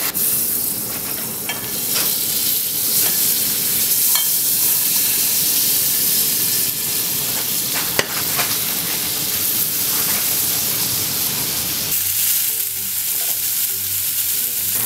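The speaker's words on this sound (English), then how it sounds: "I'm gonna put the butter on now and only now because it also would burn" Butter sizzles and fries steadily in a hot steak pan, a loud continuous crackling hiss with small pops that eases slightly near the end.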